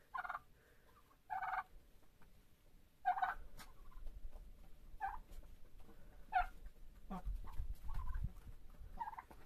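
Chickens being fed barley in winter under a garage, faint scattered clucks and calls at a distance, with quiet rustling and low background noise.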